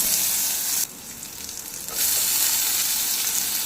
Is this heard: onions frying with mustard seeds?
yes